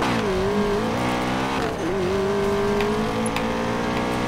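A BMW M5 drives in Need for Speed Payback, its engine holding a loud, steady roar with a brief dip in pitch as it shifts, then climbing again.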